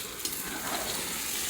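Meat braising (kosha) in a pan sizzles with a dense, steady hiss close up, a continuous frying crackle with small pops and no talking.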